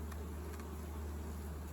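Honeybees hum around an open hive during an inspection, a steady close drone over a low continuous background hum.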